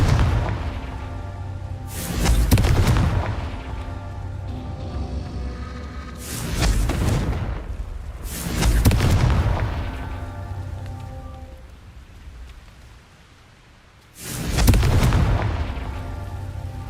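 Confringo spells go off in the Hogwarts Legacy video game, four separate loud, booming blasts spaced a few seconds apart, each with a rumbling tail, over a quiet, rain-like ambient bed.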